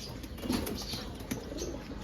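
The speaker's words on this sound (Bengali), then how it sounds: "এটা আসলে বুড়া জাতের কবুতর" A Budha breed pigeon flaps its wings in a couple of brief, soft fluttering bursts, close by against a steady background hum.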